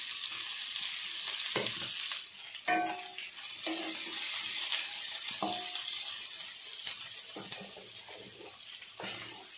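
Onions sautéing in a pan for a Tamil bitter gourd thokku, a steady loud sizzle throughout with a few stirring scrapes and knocks mixed in, no voices.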